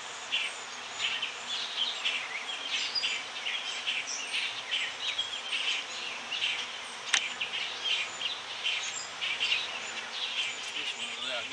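A swarm of honey bees buzzes continuously in a dense, wavering drone, close and moderately loud, with a sharp click partway through and no voices.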